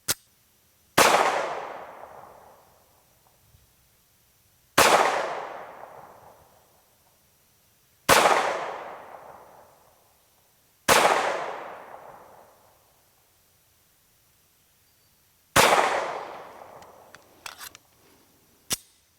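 SAR 2000 pistol firing 124 grain Federal Hydra-Shok rounds at a range: five sharp, loud shots spaced a few seconds apart, each with a ringing decay, plus a couple of small clicks near the end.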